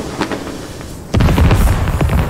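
Artillery shells explode in the Squad video game, with a muffled boom early on and then a loud, heavy blast at about the midpoint, followed by rumbling aftershocks.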